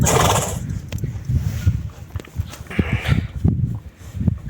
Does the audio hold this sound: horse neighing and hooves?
yes